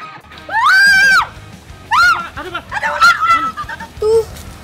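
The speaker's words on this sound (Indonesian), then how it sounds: "teriak-teriak histeris karena ketakutan melihat ular" A woman screams hysterically in high-pitched, shrill bursts, one long wail followed by several shorter frantic shrieks, close and loud.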